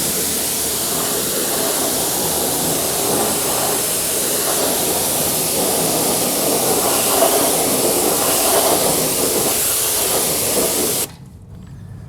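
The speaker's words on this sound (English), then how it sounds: "what we're gonna do is just rinse it all off" A pressure-washer spray rinses a truck that sat outside for seven years, a loud, close, continuous hiss that runs steadily before cutting off abruptly near the end.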